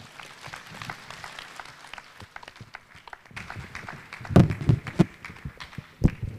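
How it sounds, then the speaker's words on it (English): An audience at a public lecture gives sparse, scattered clapping that builds into a few louder bursts of applause near the end, with faint background movement. "Please, a better round of applause while he goes back to his seat."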